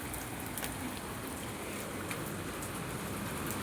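Steady rain falls outdoors as a soft, even hiss with scattered faint drop ticks, unbroken and fairly distant throughout.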